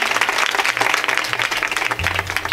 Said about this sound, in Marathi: गुरुजींसाठी एकदा जोरदार टाळ्या वाजवा।